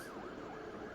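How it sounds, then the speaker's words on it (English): An ambulance siren wails in a continuous rising and falling tone, moderately loud against a steady background hum, with no voices. "Ambulance."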